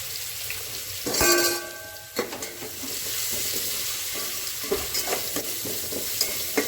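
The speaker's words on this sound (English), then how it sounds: "So after adding the curry leaves, just mix it well." Curry leaves with crushed ginger and garlic sizzle and crackle in hot oil while being stirred, a sharp utensil clink near the start, then continuous frying with occasional scrapes.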